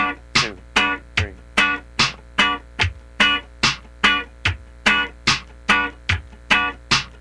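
Percussive funk rhythm guitar hits downstrokes on the third sixteenth, a steady stream of even, clipped muted strums repeating in tight rhythm, close and dry with no voices.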